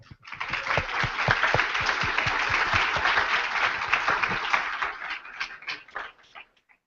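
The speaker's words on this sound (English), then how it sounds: "I'd like to give them all a round of applause." A large audience at a startup demo day gives a full round of applause, dense clapping that rises quickly, holds steady for several seconds, then thins out and fades.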